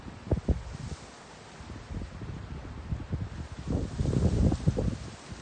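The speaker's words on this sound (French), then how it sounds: "C'est pénible ce vent." Gusty outdoor wind buffets the microphone at an abandoned lock-keeper's house by a canal lock, producing low rumbling bursts that swell and fade over several seconds, strongest toward the end, with no voices.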